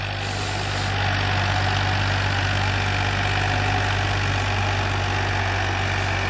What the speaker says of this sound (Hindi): ये कमाल का चल रहा है ट्रैक्टर भाई पुराना मॉडल बेच सके लेकिन पावर बढ़िया लगा रहा है